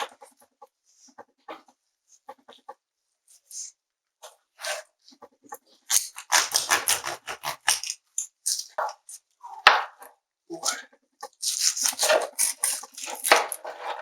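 Knife slicing through barbecue ribs cooked on an offset smoker, heard as a run of dense, crunchy cutting and scraping bursts close up, loudest in the second half, with sparse clatter and quieter handling sounds before.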